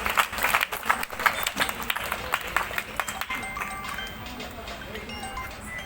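An audience at a Hindu community gathering claps for Annapurnamma, with scattered uneven claps at first that settle into a softer, steadier patter.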